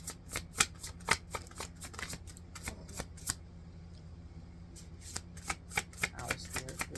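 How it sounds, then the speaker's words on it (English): Tarot cards are shuffled in quick riffling bursts and taps, close and crisp, pausing briefly before another round of shuffling over a low hum. "While I was shuffling, that card flew out of the deck"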